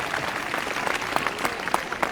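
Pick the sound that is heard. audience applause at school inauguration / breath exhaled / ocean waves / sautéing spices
audience applause at school inauguration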